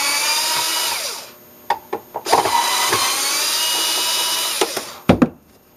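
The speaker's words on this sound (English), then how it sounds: "I'm just going to use a screw gun to get some stuff done faster" A screw gun whirs in long, loud sustained runs as it backs Phillips screws out of the air filter cover on a Craftsman leaf blower, with short clicks and clatter between the bursts.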